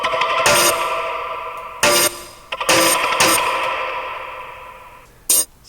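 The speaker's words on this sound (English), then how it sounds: "basically extracted some more little sections from it to create these interesting little percussion grooves." Percussion grooves built from short chopped sample sections play as bursts of bright, noisy hits over a sustained tonal bed, cutting in and out in an uneven rhythm, close and clear with no talking.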